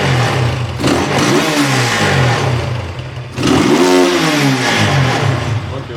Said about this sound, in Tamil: இப்போ வந்து ஸ்டாக் எக்ஸாஸ்டோட சவுண்ட் எப்படி இருக்குது அப்படிங்கிறத நம்ம கேட்கலாம்.